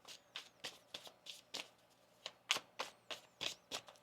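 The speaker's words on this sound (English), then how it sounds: "One more shuffle here." Quiet, close riffle shuffles of a card deck, about a dozen crisp bursts in a fairly even rhythm, with nobody speaking.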